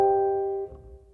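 A single piano chord with all its notes struck at once, ringing clearly and then decaying before it is released, alone with no talk.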